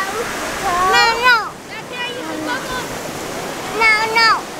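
Ocean surf rolls in on a Hawaiian beach along the Road to Hana, a continuous rushing wash of water with swells rising and falling, heard under a child's crying and whining voice.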